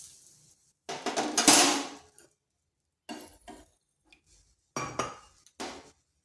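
Sugar is poured and scooped into a pan to make sugar syrup for a bread sweet, a few separate bursts of granular rattling and clinking of a spoon against the vessel, with silent gaps between.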